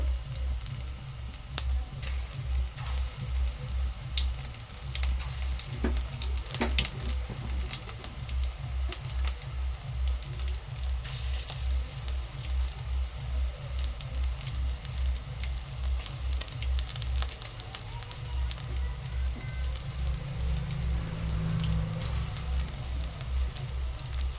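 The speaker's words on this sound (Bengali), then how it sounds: "একে একে এই চিকেনের পিসগুলো দিয়ে পকোড়া ভেজে নেব" Chicken pakoras deep-frying in hot oil for chilli chicken make a continuous dense crackle of tiny popping bubbles over a low rhythmic hum, steady and close throughout with no talking.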